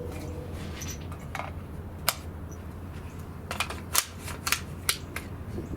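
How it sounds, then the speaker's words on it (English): Rifle fire with 200 grain bullets from a 16-inch barrel, a few sharp cracks scattered through the clip, somewhat thin and distant over steady outdoor background noise, no talking. "So if anything's going to shake loose, it'll be with this series of shots."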